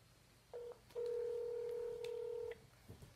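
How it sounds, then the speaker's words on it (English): A phone keypad sends dual-tone dialing beeps while placing a call: one short tone, then a long sustained tone, loud and close, with no talk over them. "we're going to call Abby's friend Avery."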